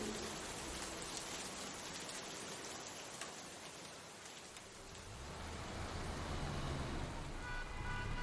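Heavy rain outside a window, a dense continuous hiss of falling drops that dips briefly in the middle and then swells back, steady and enveloping, with faint passing traffic beneath.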